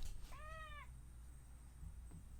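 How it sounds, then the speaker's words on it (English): A house cat gives a single clear meow partway in, close and fairly faint against a quiet indoor background, with a few small soft noises afterward and no talking. "my cat is meowing again"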